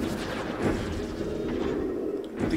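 Cannon fire in the underwater game Song of the Deep: a few dull, rumbling booms land about a second apart over a murky background, with no talk.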